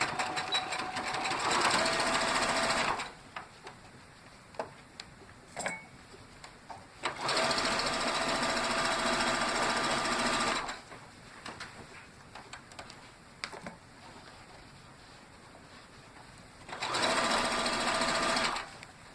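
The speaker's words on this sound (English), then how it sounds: "we're just going to pin and sew this last little bit of binding to our quilt top" A sewing machine stitches binding onto a quilt in three steady, fast-running bursts of a few seconds each, with quieter handling pauses between them, close and clear.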